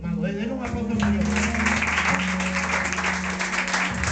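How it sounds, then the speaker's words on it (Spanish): Church congregation applauding for the Lord, dense steady clapping carried over sustained music with a voice heard over it, continuous and fairly loud throughout. "Denle un aplauso al Señor."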